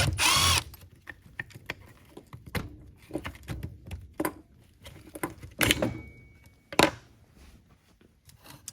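A screw is backed out of a Black and Decker 20V trimmer, producing a brief power-driver whir at the start followed by a string of close, irregular clicks and plastic clatter.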